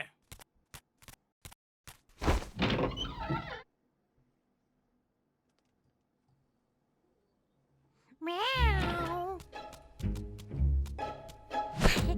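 A cat meows twice, near and loud, with sharp clicks and tapping before the first call and a stretch of near silence between them.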